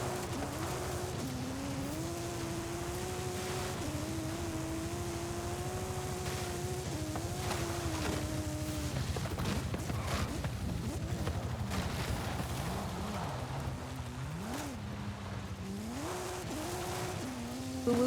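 A Bugatti engine in the video game Forza Horizon 5, revving steadily with rising and falling pitch, shifting through gears over road noise.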